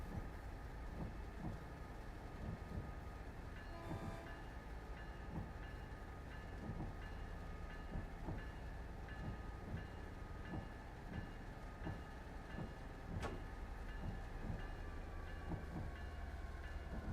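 A commuter train in Train Sim World 6 rolls slowly into a station, wheels clicking steadily over rail joints under constant rumbling cab noise, with one brief high tone partway through.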